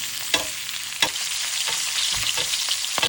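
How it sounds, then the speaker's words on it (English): Dry-aged ribeye steak basted with crushed garlic and butter in a tilted pan, a loud bright sizzle with sharp spoon clinks and spatters recurring at intervals, close up. "Tilt back the pan and baste."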